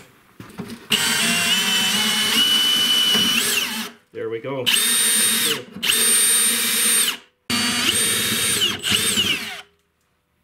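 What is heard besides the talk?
drilling out a rusted shear pin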